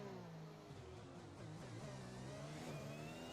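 Williams Formula 1 car engine in the F1 2021 racing game at Bahrain, a steady mid-pitched engine drone with shifting harmonic tones as revs change, continuous and fairly quiet, with a slightly glitchy, wavering quality.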